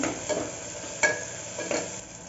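Onions and tomatoes fry in a generous pool of oil for mutton gravy, a steady close hiss broken by a few soft stirring scrapes.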